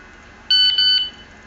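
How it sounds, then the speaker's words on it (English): A single short electronic beep from a microcontroller confirming a received message, a clear high-pitched tone lasting about half a second against near silence. "that beep indicates that the message is received and sent to the microcontroller"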